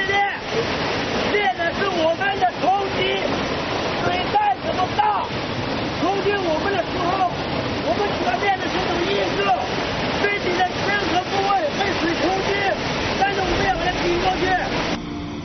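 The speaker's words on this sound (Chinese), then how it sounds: "这个瀑布落差30米，水流声震耳欲聋，从相当于10层楼的高度奔腾而下" A 30-metre rainforest waterfall roars in a loud, unbroken rush of falling water, close and dense throughout, with someone speaking over it.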